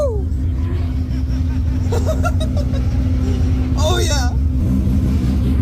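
A 1000HP 2JZ-swapped Mazda RX-8 drift car, engine rumbling loud and close from inside the cabin, with excited shouts and laughter over it.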